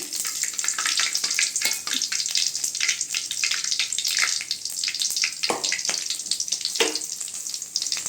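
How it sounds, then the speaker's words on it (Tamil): Cinnamon goes into hot oil, and a loud, dense crackling sizzle runs throughout with a few brief sharper bursts. "இப்போ என்ன சூடானதும் பட்டை போட்டுக்கோங்க"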